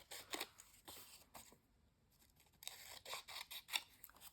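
Scissors snip through paper for a journal page, a series of short crisp cuts in two bursts separated by a brief pause, close and fairly quiet with no talking.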